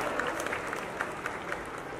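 An audience at a Thai fashion show claps in a steady, moderately loud patter with a few sharper individual claps rising above the crowd.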